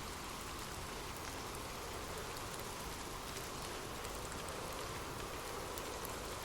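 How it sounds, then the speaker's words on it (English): Steady rain falls without a break, a dense, even hiss of drops with a soft low rumble beneath, at moderate loudness and close by. No voices are heard. "Let the rain nestle you deeper under your warm, soft blankets."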